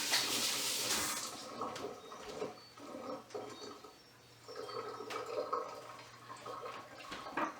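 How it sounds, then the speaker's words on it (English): Batter-covered hands are rinsed under a running tap, with a steady splash of water that rises and falls as the hands move beneath the stream. "I gotta rinse my hands off of all the batter all over them."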